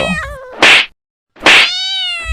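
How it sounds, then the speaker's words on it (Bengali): A cat meows twice, close and clear, each drawn-out cry broken by a harsh, noisy burst, with a short silence between them. "মেও মেও করে"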